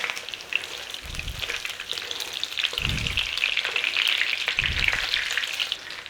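Chicken meatballs browning in a frying pan, a steady close sizzle with low bumps from stirring or turning three times.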